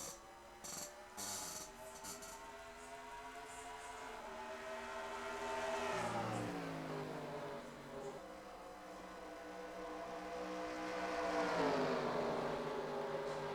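Race cars run on track at Phoenix Raceway, engines droning and rising in pitch as they pass, moderately distant and fairly faint, with a couple of swelling sweeps through the stretch.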